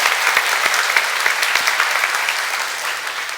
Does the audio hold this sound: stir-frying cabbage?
no